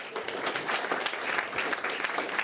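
Applause from those attending a regular board meeting, a moderate crowd clapping at an even pace, heard from a slight distance and somewhat quiet, with no talk over it.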